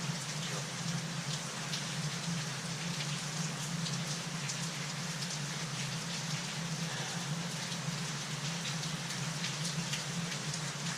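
Steady rain falls in a rainy-season morning in Laos, a continuous close hiss of drops on surfaces with a low rumble beneath, no voices, even and unbroken throughout.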